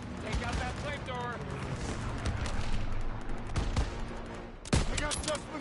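Dense WWII-era gunfire fills a game battle during Operation Cobra, with continuous rifle and machine-gun bursts, sharp nearby shots and a louder blast near the end, while soldiers shout commands over the din.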